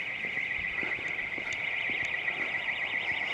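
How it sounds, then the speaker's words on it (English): An alarm sounds continuously from an old bank building on a dark street at night, a steady high-pitched electronic tone with a pulsing warble, fairly distant but clear against faint street background. "so is that the alarm that's going off?"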